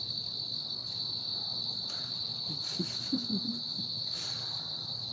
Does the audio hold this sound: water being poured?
no